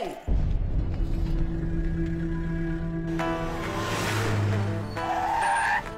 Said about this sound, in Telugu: వెహికల్ స్టార్ట్ లే.